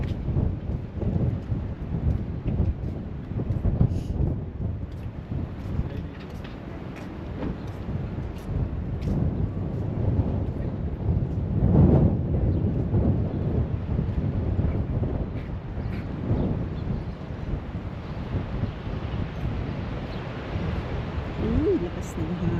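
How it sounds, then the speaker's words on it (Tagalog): Strong wind in Wellington, New Zealand, roars and buffets the microphone continuously, with gusts swelling and fading throughout, loud and close. "Lakas ng hangin."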